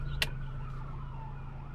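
A faint emergency siren wails in the distance, its tone slowly rising and falling behind a steady low rumble of road noise from a Morris Nomad station wagon, with a brief click early on.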